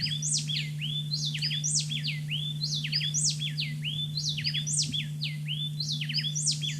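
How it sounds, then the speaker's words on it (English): Two birds sing a duet in the treetops, their rapid interlocking whistled phrases repeating in a quick rhythm that sounds like one bird, clear and moderately near, over a steady low electrical hum. "it would be really easy to think that this was a single bird singing"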